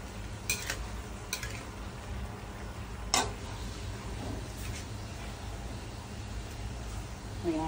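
Sautéed alugbati leaves and string beans being stirred in a pan, a few sharp utensil clicks against the pan over a soft continuous sizzle, close but fairly quiet.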